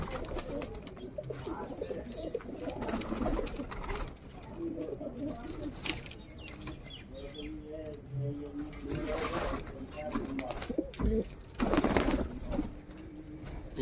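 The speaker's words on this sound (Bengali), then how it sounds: "তো ফাইনালি কবুতর দেখাবো" Pigeons coo softly and repeatedly in a loft of racing pigeons, fairly close. Other bird sounds and rustling mix in, with a little talk in the background.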